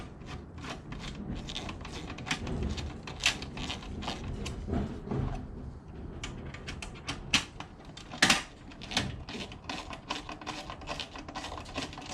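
Bolts being tightened on a Honda Ruckus scooter floor pan, a run of close ratcheting clicks and small metallic rubs and knocks, sounding alone without talk.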